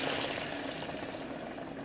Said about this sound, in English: we're going to pour in our chicken broth